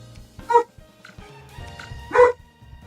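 A dog named Dean barks twice indoors, two sharp, loud bow-wows about a second and a half apart, with faint background game sounds between them.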